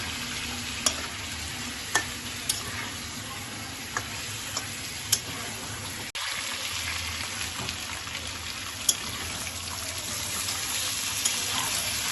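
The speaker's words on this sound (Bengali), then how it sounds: "লাল লাল করে পটলগুলোকে ভেজে নেব।" Pointed gourd (potol) fries quietly in oil, a soft, even sizzle punctuated by a few sharp spatula clicks against the pan.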